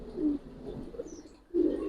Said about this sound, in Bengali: একদম পাথর চোখের কবুতর